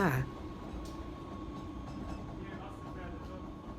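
A mountain train in the Swiss Alps rumbles steadily with a continuous mechanical drone and faint rail noise, slowing as it pulls into Wengen station, with no one speaking.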